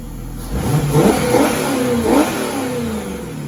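A boat's Volvo Penta 5.0 GXi engine on a Four Winns, with a newly replaced fuel pump, revs up twice in quick succession, then settles into a steady mid-pitched running drone, fairly close with no talking.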